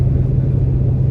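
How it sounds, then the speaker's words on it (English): A car engine started by remote runs as a steady, loud, close low rumble throughout, with no break or change in pitch. "I can turn the car on"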